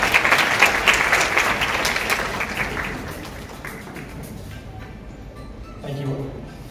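A conference crowd at the Cybersecurity & Law Conference at SLIIT applauds a competition winner: loud, full applause at first that gradually thins and fades to a few scattered claps, with faint room noise at the end.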